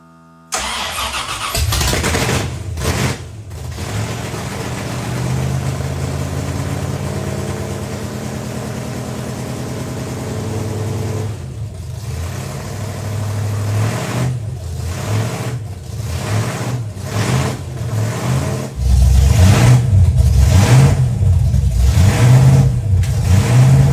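A 1970s De Tomaso Pantera supercar project, started for the first time with a rigged choke contact, cranks and catches, then runs close up with repeated throttle blips and revs that grow louder and steadier toward the end.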